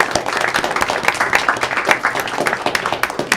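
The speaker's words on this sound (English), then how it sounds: "Let's give them a round of applause." A round of applause at a school board of education work session, dense steady clapping from a room of people that carries on throughout, with a few voices faintly audible underneath.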